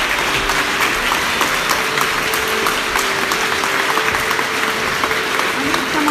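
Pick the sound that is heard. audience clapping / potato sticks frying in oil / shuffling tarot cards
audience clapping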